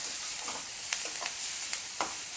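Green chilli paste frying in a hot tempering for a radish buttermilk sambar, a steady close sizzling hiss broken by a few light stirring clicks.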